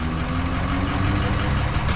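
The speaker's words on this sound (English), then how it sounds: "Turn the damn truck off." A truck engine left running idles in a steady, close, continuous low rumble that holds evenly for the whole stretch, with no voices over it.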